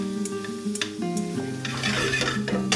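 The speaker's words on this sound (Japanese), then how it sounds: "アンチョビはその熱いあったかいオイルの中に入れたらゆっくり溶けていくので、まあ弱火でしっかり" Anchovies cook gently in warm oil over low heat for a Florentine-style spaghetti, giving a soft continuous sizzle and stirring scrape beneath sustained musical tones, with light taps from a utensil against the pan.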